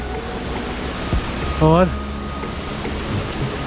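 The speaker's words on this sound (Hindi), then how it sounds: "कितना बढ़िया झरना दिख रहा है यहाँ से, और नीचे देखो कैसे पानी आ रहा है वहाँ से।" A steady, broad rushing roar of a waterfall and flowing water along the Kedarnath trek, constant throughout, with a short voice and a brief tonal sound cutting in near the middle.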